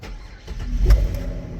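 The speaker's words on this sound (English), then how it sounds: "Car starts." A Ford Falcon FG X car engine cranks and starts, a low rumble that swells near the middle of a short moment and settles into a steady idle, heard close with no talking.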